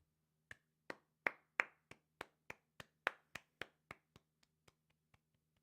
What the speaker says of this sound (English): I don't like clapping for the Savage Speeders.